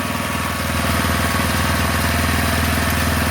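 A four-stroke engine idles steadily just after start-up, with the throttle cable freshly loosened. Its even, low putter runs loud and close without a break, and no one talks over it.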